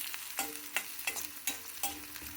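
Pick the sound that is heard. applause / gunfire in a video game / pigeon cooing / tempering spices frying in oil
tempering spices frying in oil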